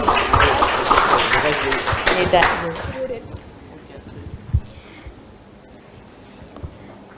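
An audience at a school debate session applauds, with busy clapping and crowd noise in the first few seconds that then drops away to quiet room sounds and a few scattered thumps.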